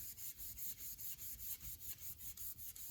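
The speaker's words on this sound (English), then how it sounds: "He is really sanding hard." Rapid rhythmic rubbing strokes of a red Scotch-Brite pad on a guitar body, about five strokes per second, quiet and close, no talking.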